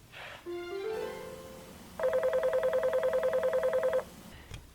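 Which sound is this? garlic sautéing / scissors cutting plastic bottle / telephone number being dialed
telephone number being dialed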